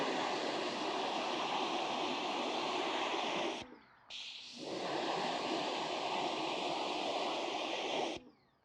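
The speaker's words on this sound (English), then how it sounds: "I'm going to try and pressure wash off maybe this black line or just half of it more" A pressure washer sprays a car panel with a loud, steady, hissing jet that cuts off briefly, resumes, then stops cleanly near the end.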